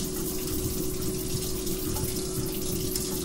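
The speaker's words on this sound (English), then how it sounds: "I'm gonna rinse my hand" A hand rinsed under a running kitchen tap, a steady continuous stream of water splashing into a sink, close and even throughout with no speech.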